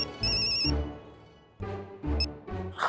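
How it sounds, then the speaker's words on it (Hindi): A telephone rings for a conference call in a Hindi TV sitcom, with two loud, close electronic ringtone bursts separated by a short pause over low background sound. "मैं हाथी प्रा को कॉन्फ्रेंस पे लेता हूँ।"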